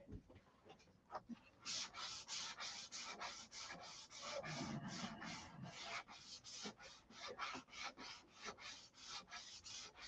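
Rhythmic sanding of a freshly painted model airplane surface, steady back-and-forth rasping strokes close to the mic, continuous with no talking.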